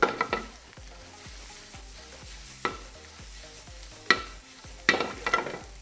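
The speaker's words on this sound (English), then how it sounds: "Now we're gonna add our mushrooms back into the mix." Mushrooms are stirred back into a pan holding ribeye steak drippings, with a low sizzle beneath several sharp spatula scrapes and knocks against the pan, spaced irregularly and close by, and no speech.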